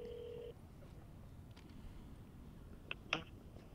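Phone dialing over a speakerphone during a casual call about Seton Hall baseball: a steady tone at the start, then a few brief, sharp beeps later, faint and without talk.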